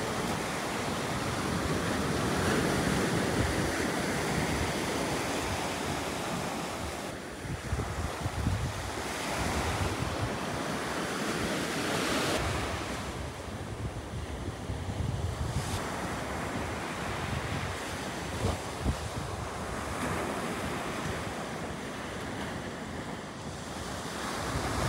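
Sea waves wash steadily onto the shore near Rama's Bridge off Talaimannar, Sri Lanka, a continuous roaring surf with gusty wind buffeting the microphone and no voices.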